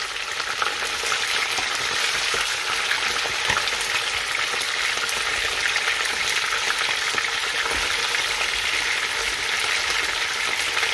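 Meat fries in a pan for a stew, giving a loud, dense and steady sizzle that runs unbroken from start to finish with faint stirring noises and no talking.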